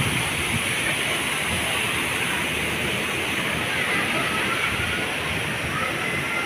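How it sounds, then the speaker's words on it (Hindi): A loud, steady roar of heavily falling and splashing water at a water park in Brunei fills the whole stretch without pause. "हर तरफ पानी ही पानी गिर रहा है, बहुत स्पीड के साथ और प्रेशर के साथ"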